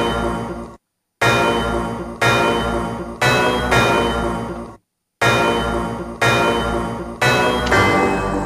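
A synthesized bell in FL Studio, shaped with a parametric EQ and compressor, strikes repeatedly in a rhythmic pattern, each ringing tone decaying before the next, with two short silent gaps between phrases.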